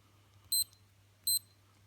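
A PALADA T8073G dual-time analog-digital sports watch gives two short, bright electronic alarm beeps less than a second apart, close and clear over a low steady hum.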